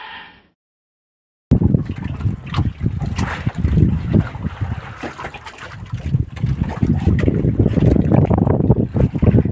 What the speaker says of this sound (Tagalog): Puro bangka ang paligid.